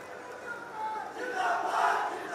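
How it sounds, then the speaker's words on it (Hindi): Crowd at a government project inauguration ceremony breaks into applause and cheering, a swelling roar that builds louder toward the end, with no clear speech over it. "जोरदार तालियां इनके लिए।"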